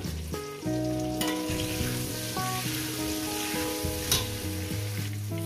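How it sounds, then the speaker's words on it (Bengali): Potatoes frying with turmeric in a pan, a dense close sizzle with bubbling crackle throughout, two sharp scrapes or clinks standing out, and tonal hum underneath. "সামান্য পরিমাণে হলুদ দেবো, দিয়ে এটাকে আমি 5 মিনিট ধরে ভেজে নেব।"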